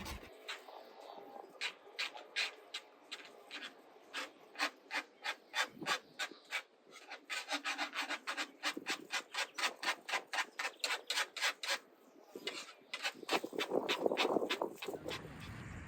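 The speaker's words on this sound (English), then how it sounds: "Making halva starts by adding dry flour straight into a warm pan and stirring it carefully" Dry flour stirred in a warm pan for halva, a close scraping rasp repeating in quick rhythmic strokes, pausing briefly and resuming, with no talk over it.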